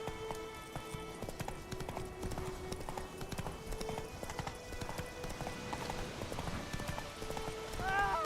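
Roach, the horse in The Witcher 3 video game, gallops with quick rhythmic hoofbeats over steady game ambience and music, with a faint snort or whinny near the end.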